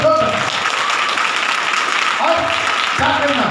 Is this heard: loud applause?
yes